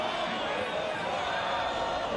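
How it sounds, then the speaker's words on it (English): A large stadium crowd at a Sacramento Republic versus Hartford Athletic soccer match keeps up a steady, restless roar of disapproval throughout the brief moment, heard broadly from a distance. "crowd is a little bit upset."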